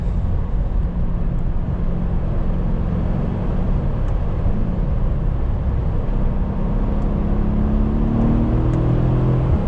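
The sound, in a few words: Mercedes-Benz E63 S AMG engine accelerating on road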